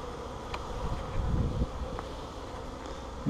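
Honeybees buzzing close by around a hive during an inspection, a low droning hum with individual insects passing near, over faint outdoor breeze.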